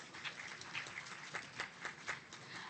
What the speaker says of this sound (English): A round of applause for our esteemed panelists for such a thought-provoking session.